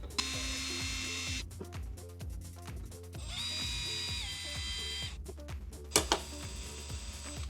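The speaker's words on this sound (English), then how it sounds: "I'm going to go very slowly and drill it out" A power drill with a cobalt bit whines in sustained bursts at a slow, low speed, drilling out a screw while building a PC, stopping and starting several times with a rhythmic ticking underneath.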